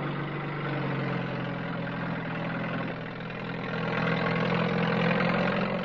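Lorries and tractors on sandy ground haul stores and equipment inland on an island, a continuous heavy engine drone with a low steady hum that dips briefly and then swells louder near the end.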